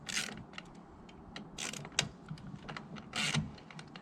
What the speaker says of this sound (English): I'm going to slide this bar out